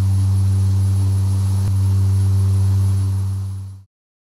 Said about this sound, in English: Engines, climb power, set.